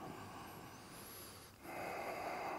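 During a yoga flow, a person takes deep breaths through the nose: a long, soft inhale followed by a brief pause, then a fuller, louder exhale close to the microphone.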